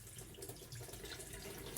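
Cold water runs steadily from a tap into a bowl of porcini mushrooms, a soft continuous splashing hiss at low volume with no talk.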